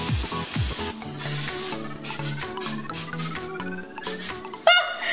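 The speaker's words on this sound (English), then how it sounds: "Time for us to go into this pan. Time to spray." Cooking spray hisses onto a baking pan for baked macaroni and cheese in several short bursts over music.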